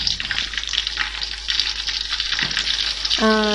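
Garlic paste hitting hot oil in a pan for a quail roast, a loud continuous close sizzle with a brief tonal clink just before the end.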